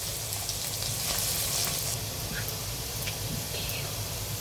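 Finely chopped ginger and garlic frying in a pan for a Kerala fish curry, a steady close sizzle with light hiss and occasional crackles.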